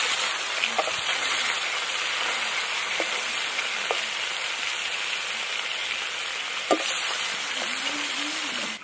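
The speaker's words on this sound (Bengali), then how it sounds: "হালকাই ভাজতে হবে, ভোলা মাছ খেতে ভালো লাগবে" Bhola fish sizzling lightly in a pan, a steady broadband hiss of frying oil with occasional louder pops and crackles, close and continuous with no talking.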